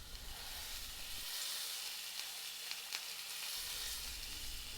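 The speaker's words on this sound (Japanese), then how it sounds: "油を出しながら側面を焼き固めていきます。" Wagyu beef searing in its own rendered fat in a pan gives a soft, steady sizzle with a few faint crackles, fairly quiet and with no voices.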